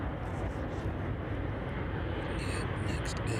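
Beechcraft King Air turboprop arriving at East Midlands Airport in the evening, a steady distant engine drone, while someone talks over it.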